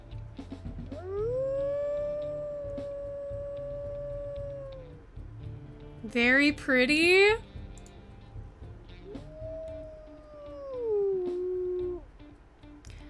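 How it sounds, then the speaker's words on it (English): A wolf howling in the video game WolfQuest Anniversary Edition, two long, smooth, high howls with a rising start and falling end, separated by a loud burst of other sound; a voice speaks briefly between them. "Let's listen to his howls"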